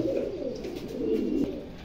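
Pigeons coo close by in a low, continuous murmuring rumble that swells and fades, with no talk over it.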